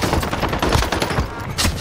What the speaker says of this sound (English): I don't miss any shots with the Blixen